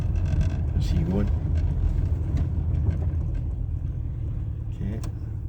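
A Daimler V8 250 engine with a misfire runs steadily close by, giving a low rumbling idle with uneven pulses, while someone talks over it.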